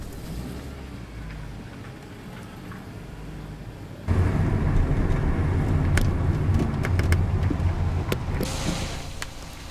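A car engine rumbles steadily as the vehicle drives, with road noise that swells and grows louder about halfway through, plus a few faint clicks.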